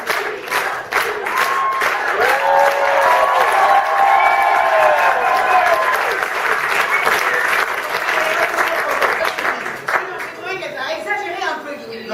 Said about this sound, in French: Vous êtes prêts à applaudir